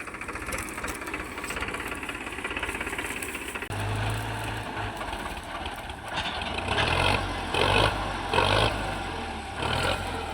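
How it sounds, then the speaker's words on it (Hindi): A Swaraj tractor's diesel engine cranking and starting on a farm, then settling into a loud, rapid, steady knocking idle with a heavy engine rumble that rises in bursts. "हाँ ये देखो स्वराज ट्रैक्टर हो गया अब चालू।"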